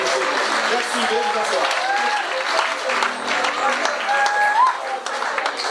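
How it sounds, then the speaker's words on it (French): Audience applause at a French-speaking gathering, a steady wash of clapping from a crowd that carries on throughout, with a voice speaking over it near the end. "Applaudissez pour eux s'il vous plaît"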